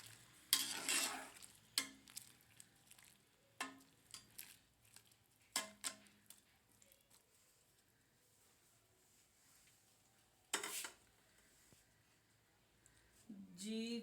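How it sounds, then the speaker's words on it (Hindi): A spoon stirring carrot and tamarind water pickle, giving scattered scraping clinks and a couple of longer rustling bursts at low volume, with a voice faintly heard near the end. "ऐसे इसको चम्मच के साथ हिला देना अच्छी तरह से, ताकि सारे मसाले इसके अंदर जज़ब हो जाए।"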